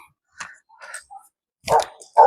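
Several dogs bark in short, separate bursts, some yips and louder barks closer by, with quiet gaps between them.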